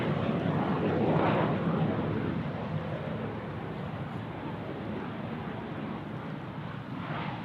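Qantas airliner at Sydney Airport, a broad steady jet roar that stays loud throughout and thins slightly toward the end, heard from outdoors on the ground.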